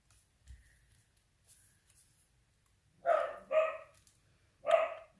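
Several dogs bark in a quick burst of three loud, close yaps, following a few seconds of near silence with faint background noise.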